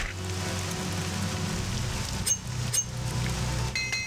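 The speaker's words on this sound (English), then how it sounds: "Oh, it started raining." Steady rain in the video game Morrowind patters across the scene with a constant hiss, punctuated by a few bright clinking drops, no voices present.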